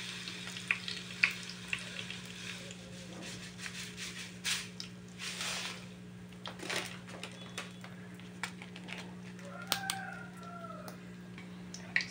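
Mustard seeds splutter in hot coconut oil, popping in scattered, faint crackles and sharp snaps over a low steady hum, with a rooster crowing faintly in the background.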